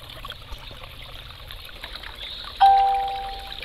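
Water trickles steadily out of a creek siphon in a soft, continuous flow; partway through, a single bright electronic chime rings out and slowly fades over the running water.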